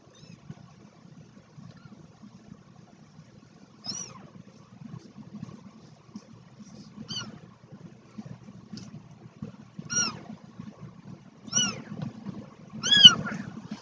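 Two-week-old kittens meowing, a few thin, high-pitched mews that come singly at first and then more often and louder, over a low rumbling background.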